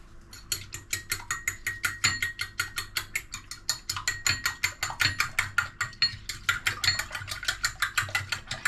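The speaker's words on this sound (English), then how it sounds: "Then I whisk this together." Eggs and a little milk whisked together in a bowl, a fast steady rhythm of bright metallic clicks and taps for several seconds, close and alone without talk.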